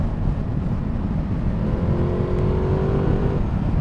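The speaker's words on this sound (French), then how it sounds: "t'entends plus le moteur que l'échappement" A Ducati Multistrada 1260 S motorcycle engine rumbles deeply and revs up, with a rising whine toward the end, close and loud.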